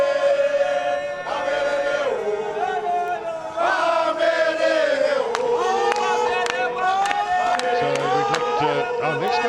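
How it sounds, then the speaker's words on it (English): Crowd singing and chanting at a football match between Raiders and Barberton, a dense, sustained wall of many voices with swelling melodic lines and sharp accents throughout. "You can hear the singing, the vibe absolutely electrifying"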